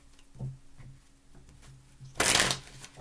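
A deck of tarot cards handled close up: light taps and shuffles lead into a single sharp, loud riffle near the end, heard alone in a quiet space.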